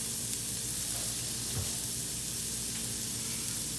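Burger patties sizzle in butter in a pan, a steady broadband frying hiss that holds at a constant level throughout, with a faint thump partway through.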